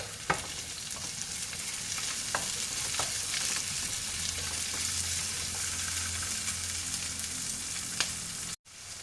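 Onion and garlic sauté in a pan for pork humba, with a steady broadband sizzle and a few sharp utensil taps against the pan, close and fairly loud throughout, briefly cut off near the end.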